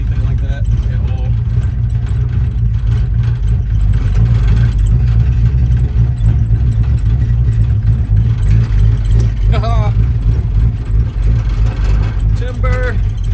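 A 1968 Ford Fairlane with an unadjusted idle rumbles steadily and loudly up close, a low, continuous engine drone, with brief voices and clinks breaking through now and then.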